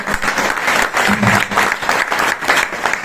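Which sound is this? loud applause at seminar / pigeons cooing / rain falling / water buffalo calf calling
loud applause at seminar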